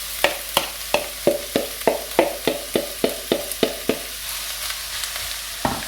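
Vegetables tossed into a hot pan of olive oil for a hidden veg sauce, with a series of sharp, evenly spaced clattering stirs over a steady bright sizzle, close and fairly loud, with no talking.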